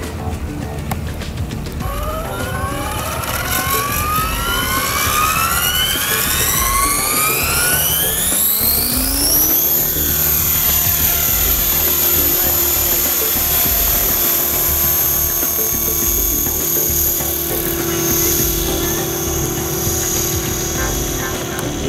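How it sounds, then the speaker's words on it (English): A T-Rex 550 RC helicopter flies with a loud, steady rotor whine that rises in pitch, then the motor is cut for autorotation and the tones drop and settle into a sustained whir of freewheeling blades, continuous throughout. "I'm gonna take the helicopter up high, shut off the motor, and let the inertia of the blades spin down."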